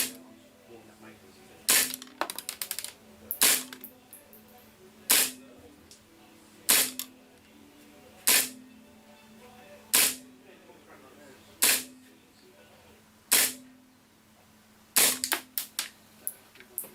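Gas blowback airsoft pistol firing 0.2 g BBs on green gas: about a dozen sharp, snappy shots at slow, fairly even intervals, each with a brief mechanical clack, loud and close, with some faint talk in the background.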